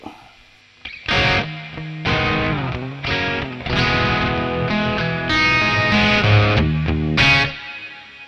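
Electric guitar through a Joyo Atmosphere reverb pedal in forest mode, its chorus-modulated reverb swirling around strummed chords that ring and decay in several loud bursts, with no talking.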